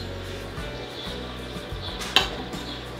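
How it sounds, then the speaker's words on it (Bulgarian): A spoon stirs homemade strawberry jam in a pot, giving soft scraping and thuds with a single sharp clink near the end, over a low steady background hum. "Разбърквам хубаво."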